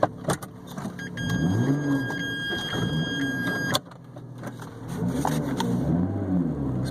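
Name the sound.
2012 Lotus Evora with manual gearbox being driven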